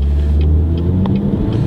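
A car pulls slowly forward from a stop at a green light, its engine giving a steady, loud low rumble with a slight rise, heard alone without talk.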